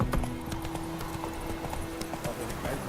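Horse hooves trot in a steady clip-clop rhythm in The Witcher 3, close and clear over a low ambient hum, with a voice talking faintly underneath.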